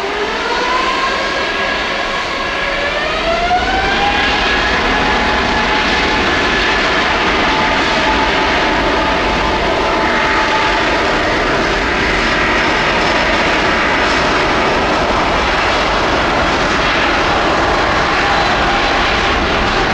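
Boeing 767 jet taking off from Paris Orly runway 08, a loud, sustained engine roar with rising whine, close and continuous throughout.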